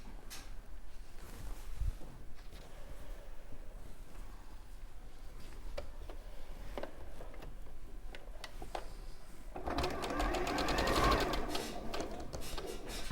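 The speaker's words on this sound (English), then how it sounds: "then I can sew, keep in the same order, remember, we're going to sew those pairs together to make our set of 4" Domestic sewing machine stitching pairs of quilt pieces together with straight seams, a steady mechanical whir running throughout and growing louder and busier toward the end, with no talk over it.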